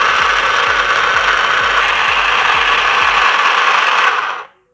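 A mini portable sewing machine running on electric power hums loudly and steadily with a regular ticking beat from its mechanism, then cuts off abruptly near the end.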